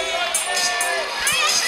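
A large crowd in the Chamonix town square cheers at a lead climbing final of a European championship. Shouts and whistles rise over a loud, continuous roar.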